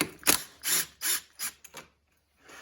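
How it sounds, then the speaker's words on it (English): A 12mm socket ratchet loosens a bolt on a Yamaha Raptor steering stem, giving several close, loud bursts of ratcheting clicks in an uneven rhythm, then a pause and one fainter burst. "Now we take our 12mm socket, pull that."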